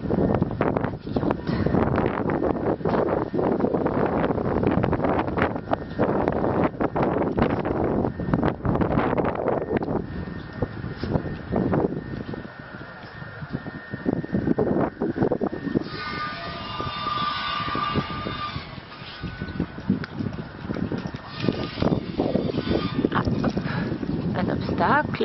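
Strong gusty wind buffeting the microphone outdoors on grassy ground, a loud continuous roar that swells and rumbles throughout, with a person talking intermittently over it.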